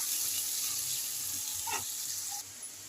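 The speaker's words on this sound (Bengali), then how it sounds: "এই তেলেতে আমি দিয়ে দিচ্ছি কাঁচা লঙ্কার পেঁয়াজ। পেঁয়াজগুলো আমি হালকা করে ভেজে নেব।" Sliced onions and green chillies sizzle in hot oil in a steady, bright hiss that drops away shortly before the end, with occasional faint pops.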